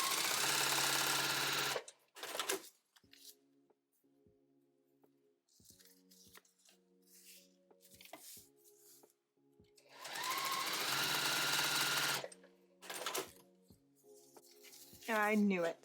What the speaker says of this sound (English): So I'm going to sew all 4 of these in a row,